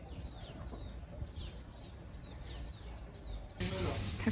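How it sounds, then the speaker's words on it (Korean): Chickens in a rural yard beside a traditional wooden house in Phrae, northern Thailand, clucking faintly at a distance under steady outdoor ambience and chirping birds, with a louder rustle near the end. "닭들이 저기 올라가 있어."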